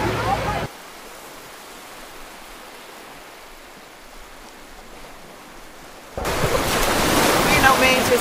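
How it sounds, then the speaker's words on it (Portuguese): Surf on the sea at Praia do Forno beach in Arraial do Cabo, a soft, steady wash of waves heard from a distance, with louder rushing noise at the start and end. "Olha esse sonzinho do mar, que delícia"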